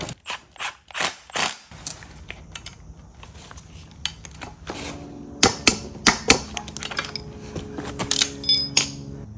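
A ratchet clicks in quick bursts while tightening the end link nuts on an NSX-R front sway bar, with sharp, close metallic ratcheting and a few clanks between strokes and no talk.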